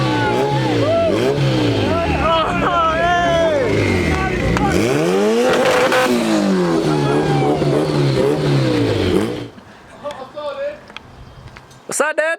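A race car at a street car takeover event in Denver revs hard on launch control, loud and close, with rising and falling engine sweeps for about nine seconds before cutting off, leaving brief crowd sounds and a final burst.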